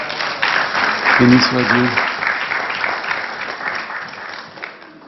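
Congregation applause during a church gathering, a steady dense clapping that runs throughout while someone speaks briefly over it.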